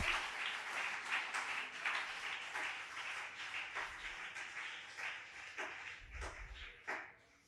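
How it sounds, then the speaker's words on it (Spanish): A church congregation claps enthusiastically, a dense wash of applause that gradually thins toward the end, with a few sharper, louder claps near the close. "Dele ese aplauso fuerte al nombre de Jesús"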